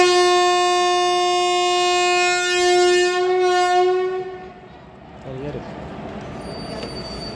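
A Pongal special passenger train running from Thoothukudi to Tambaram sounds a long, loud, harmonic horn blast, then fades into a lower rolling rumble of the moving train.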